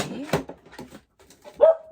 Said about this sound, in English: my puppy's barking in the background.